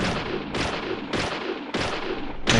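Video game gunshots from Deadly Premonition ring out as five loud, sharp blasts at roughly half-second intervals, each with a short reverberant tail.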